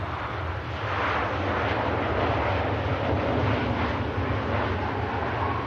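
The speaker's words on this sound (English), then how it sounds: "We touch down next. This aircraft's just arriving in from Marrakesh." A TUI aircraft lands at Manchester Airport, its broad jet roar rushing in and holding steady at moderate distance, a continuous wash of engine noise with no voices over it.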